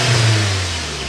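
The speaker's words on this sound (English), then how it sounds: "we do have some very real exhausts, but they could sound just a little bit better in sports mode" A Skoda Superb 4x4 exhaust revs briefly in sports mode, a close, loud engine roar that swells and then settles back toward a steady hum.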